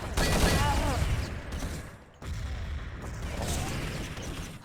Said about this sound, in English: Some heavy nade utility being used at hotel